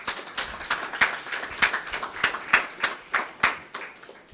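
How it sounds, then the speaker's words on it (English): An audience at a conference on smart buildings and energy efficiency in Nigeria claps, sparse, uneven hand claps from a smallish group, fairly close, with no voices. "a round of applause as we invite her to join me on stage"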